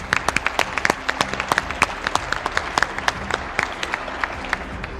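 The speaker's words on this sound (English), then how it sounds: "So they all deserve, I think, a round of applause for stepping up again too." An awards-breakfast audience claps steadily and densely for about five seconds, a close, continuous burst of applause with no voices over it.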